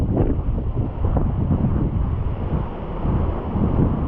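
Strong wind roars through mabolo trees and garden plants, a loud, continuous gusting rush that buffets the microphone with no pauses.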